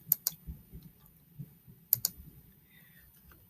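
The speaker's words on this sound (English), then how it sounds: "I start typing in" Keys on a computer keyboard clack at close range in sparse clusters, a couple of sharper double strikes standing out against a quiet room with faint low rumbles between them.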